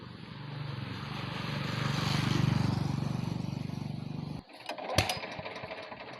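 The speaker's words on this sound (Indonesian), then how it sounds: "mesin dinyalakan lagi kawan-kawanku" A Honda GX200 small engine drives a rice threshing machine with a loud, steady droning roar that swells and fades, then cuts off abruptly, followed by clanks and rattles of the machine.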